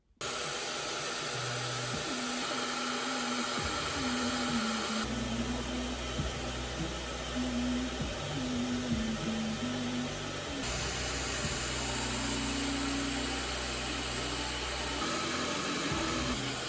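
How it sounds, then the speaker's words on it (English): A hair dryer with a diffuser attachment drying curly hair blows a steady, loud whooshing drone with a low hum, its pitch and airflow shifting slightly as it moves, continuous for the whole stretch. "Start diffusing and then I'll come back."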